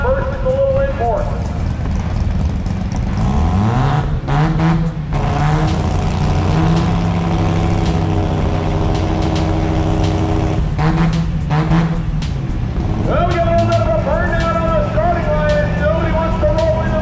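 Drag racing cars roar at full throttle down the strip, a loud continuous engine scream with rising pitch sweeps as they accelerate and shift, while an announcer talks over it.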